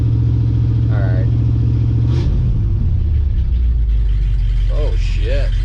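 A 1965 Chevy C10 pickup engine runs loud and close with a steady low rumble, its pitch shifting as the revs change, while someone speaks over it.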